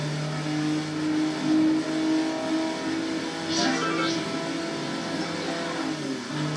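A car engine revs and accelerates in the racing video game Midtown Madness 3, a steady mid-pitched drone with rising surges that stays loud and close throughout, without speech.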